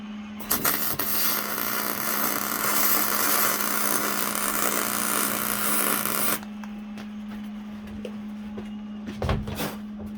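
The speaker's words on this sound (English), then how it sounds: "I'm going to try to push the weld up" Aluminum being MIG welded with a Miller spool gun: a loud, steady crackling hiss runs close up for about six seconds, then cuts off, leaving a low electrical hum with a few faint knocks.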